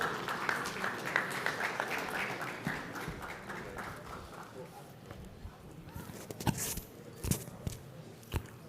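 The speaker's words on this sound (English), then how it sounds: "Round of applause." An audience at an investment summit claps to welcome a panel to the stage. The applause is moderate at first and thins out into a few scattered, sharper claps and thumps, with faint talk underneath.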